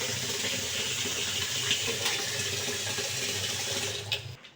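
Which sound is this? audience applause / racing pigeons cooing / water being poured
water being poured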